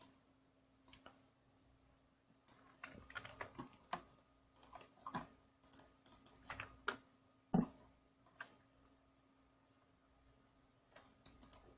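Typing on a computer keyboard, with irregular bursts of faint, close key clicks spread over several seconds and no talking.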